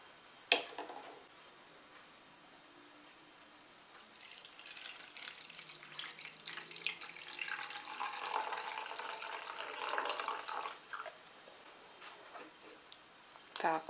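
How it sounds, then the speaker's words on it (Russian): Water runs into a bowl for blackcurrant pie dough, a soft continuous pour that strengthens toward the middle, with a few clinks at the start and end and someone talking. "И также добавляем еще 200 миллилитров воды."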